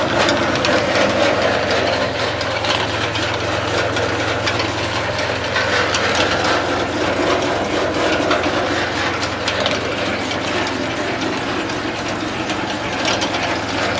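A potato digger driven by the cardan shaft of a Scout XT244 tractor runs continuously, giving a loud, close, rattling mechanical clatter of gears and ratcheting parts over a steady engine drone, with no talking.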